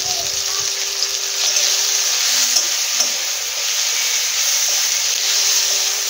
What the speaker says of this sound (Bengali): আদাটা ভালো করে ভেজে নেবো।